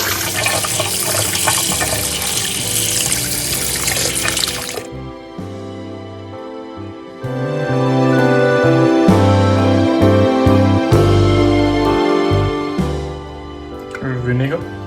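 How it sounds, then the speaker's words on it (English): Tiger prawns rinsed under a running kitchen tap, a loud rushing splash of water that stops partway through, after which other sounds carry on. "Let's clean the prawns."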